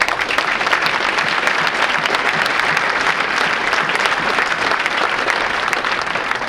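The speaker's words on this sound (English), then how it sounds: "So let's give yourselves a round of applause as well." A ceremony audience applauds themselves, producing a loud, sustained roar of clapping from a large crowd, thick and steady from start to finish with no talk over it.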